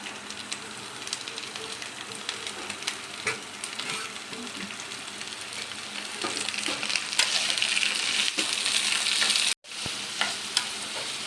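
Dried red chilies and fresh grated coconut fry in a hot pan with a steady, close crackling sizzle and occasional stirring scrapes, the frying growing a little louder toward the end before a brief pause.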